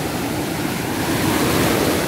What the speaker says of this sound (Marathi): जिथे खड्डा असतो ना तर अशा प्लेन लाटा येतात त्या खड्ड्यातून आणि अशा किनाऱ्यालगत येऊन मग त्या फुटतात